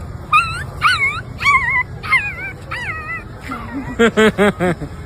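A boy imitates a small dog's whimper with his voice: a run of thin, high, wavering whines and yips in short bursts, ending in a quicker cluster of sharper yelps, close and fairly loud over a low background hum.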